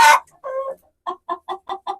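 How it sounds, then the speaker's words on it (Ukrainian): A rooster gives a loud squawk, then a drawn-out call, followed by a steady run of six short clucks, close by. "Бо півень почав битися."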